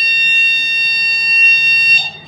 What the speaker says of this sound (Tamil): இந்த இது ப்ரெஸ் பண்ணால் ஹார்ன் சவுண்ட் வரும் உங்களுக்கு.